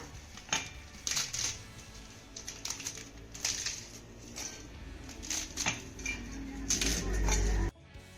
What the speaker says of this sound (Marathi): हे पापड ना आपण तोडून मिक्सरच्या भांड्यामध्ये काढून घेऊया